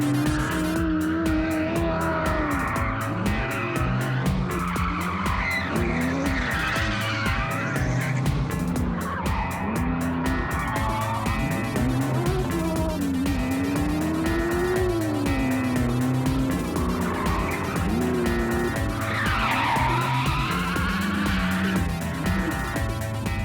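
A 1965 Ford Mustang rally car drives hard on a stage, its engine roaring continuously while tires squeal and skid in loud drawn-out bursts.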